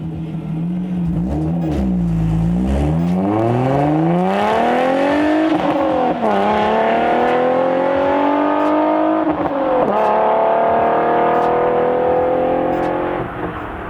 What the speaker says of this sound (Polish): To był czysty, mechaniczny śpiew, który w tamtej dekadzie stawał się znakiem rozpoznawczym serii M.